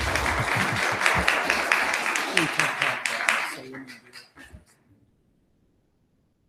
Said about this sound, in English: we'll ask you to hold your applause, please